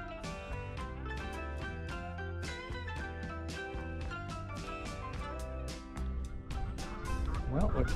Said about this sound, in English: we're coming up to quite a little collection of geese